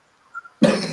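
A single loud cough bursts out suddenly after a brief faint sound, close and sharp, from a person taking part in an indoor discussion about plastics in the automotive industry.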